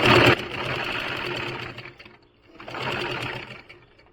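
A simple home sewing machine stitching cloth runs in two steady whirring bursts separated by a short pause, close and clear with no talking.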